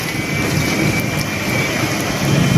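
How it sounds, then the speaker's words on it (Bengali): Heavy rain pours down steadily over flooded roads, a dense continuous hiss with low thunder rumbling underneath, staying loud and even throughout. "বৃষ্টি আর বৃষ্টি"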